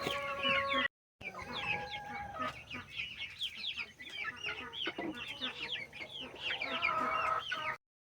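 Backyard chickens cluck and chatter near their coop on a hot day, a busy overlapping flock of short calls with an occasional crow, close and steady with a brief gap near the start.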